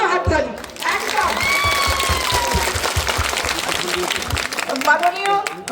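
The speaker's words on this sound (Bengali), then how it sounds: "মায়েদের জন্য হাততালি।" Audience clapping fills a political rally crowd, dense and steady across the whole stretch, with voices talking over it at the start and end.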